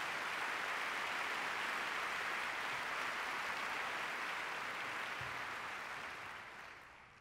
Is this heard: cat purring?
no